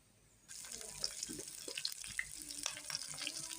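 Dried chilies and curry leaves drop into hot oil for an eggplant and potato curry, setting off a steady close crackling sizzle after a quiet start, with faint clinks under it.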